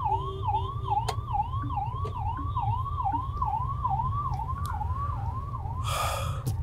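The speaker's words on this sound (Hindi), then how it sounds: "एम्बुलेंस को जगह दे रहा हूँ।" An ambulance siren wails in a steady rising-and-falling cycle, close and clear over low road rumble, heard from inside a moving car in city traffic, with a brief burst of noise near the end.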